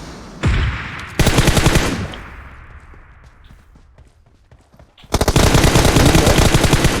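Automatic gunfire from the PUBG Mobile shooter game comes in loud, dense bursts: a short volley, a longer one that trails into quieter game ambience, then a sustained rattle of rapid shots.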